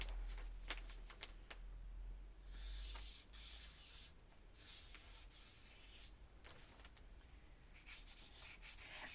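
Pencil or marker sketching a pattern by hand for a man's traditional powwow outfit, giving a steady dry scratching and rubbing of strokes on paper with brief pauses, close and fairly quiet, with no talking.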